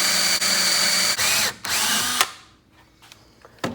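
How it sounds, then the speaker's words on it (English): A power drill with a 1 3/8 inch bit bores a hole through the center of a threaded plastic cap, whirring loudly with brief dips before winding down to quiet, then a short clatter. "get a hole drilled in the center of the cap with an 1 3/8 drill bit"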